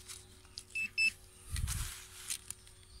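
A metal detector gives a few short, clear electronic beeps while sweeping a field during a dig, with rustling and handling noise between the tones.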